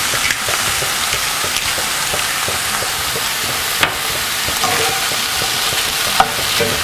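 Ground beef hamburger sizzles steadily in a frying pan with crackling spatter, a spoon scraping and stirring through it with a couple of sharper clinks, close and continuous without talk.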